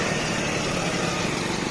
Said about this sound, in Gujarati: આ જો બાઇક વાળો બી મારી બાજુથી આવે છે